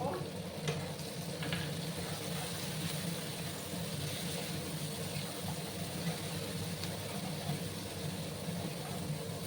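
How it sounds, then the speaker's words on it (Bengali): Ginger, garlic and green chilli paste fries in a pan while being stirred, giving a dense, continuous close sizzle with faint stirring scrapes underneath. "এবার আমি একটু আদা, 4-5 কোয়া রসুন আর কাঁচা লঙ্কা বেটে রেখেছিলাম, সেটা দিয়ে দিলাম। একসাথে ভালো করে আমি কষিয়ে নেব।"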